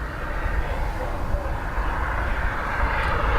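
A British Airways A321neo airliner in from Heathrow moves at Dublin Airport, its engines making a steady, loud broadband roar that holds evenly throughout.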